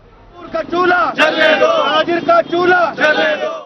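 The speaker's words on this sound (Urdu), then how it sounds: "مظاہرین کی وابڈا کے خلاف شدید نعرے بازی" Crowd of protesting traders in Multan chanting loud slogans against the WAPDA power utility over electricity prices, voices rising together in repeated bursts with brief pauses between, close and forceful.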